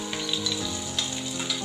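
Garlic cloves and coriander seeds fry in hot oil for onion tomato chutney, giving a close, steady crackling sizzle with small pops throughout.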